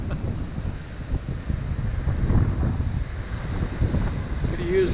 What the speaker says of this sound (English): Could have used a little of this wind yesterday